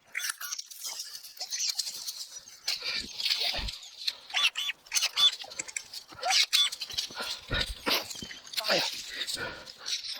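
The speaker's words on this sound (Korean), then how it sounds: "동네 바둑이가 왔는데 이놈이 사람 손이 그리운지 계속 놀아달라고 낑낑대네요." A village dog whines and whimpers repeatedly to be played with, close by outdoors, under someone talking.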